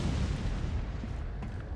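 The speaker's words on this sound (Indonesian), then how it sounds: "Kita tembak-tembakin aja." Sustained dense low rumble of repeated gunfire and blasts in Resident Evil 3 Remake, loud and continuous with no clear gaps or voices.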